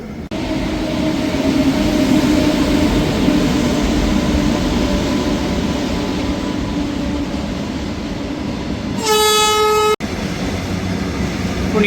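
A train rolls past loudly and steadily near a rail line in Tiruvallur, with wheel rumble throughout and a short, sharp horn blast near the end.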